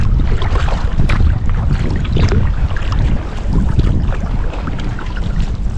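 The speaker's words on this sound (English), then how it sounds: "There's a sweep to fight the wind" Gusty wind buffets the microphone during a kayak sweep stroke on open water, a loud, continuous rumbling roar with faint splashes and no voices.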